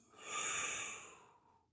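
One slow, audible breath in and out during a gentle mobility exercise, close and soft, swelling and fading over under two seconds with no talking.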